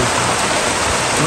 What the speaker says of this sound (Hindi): बाहर हो रही है जी बहुत ही तेज बारिश, देख सकते हैं जी कितनी तेज बारिश हो रही है